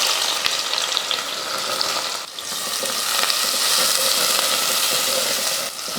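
Onions and whole spices fry in hot oil for a mutton kuska biryani, a dense steady sizzle throughout with occasional stirring clicks and no talk.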